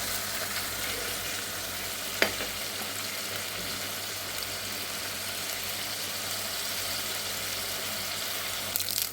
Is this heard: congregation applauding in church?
no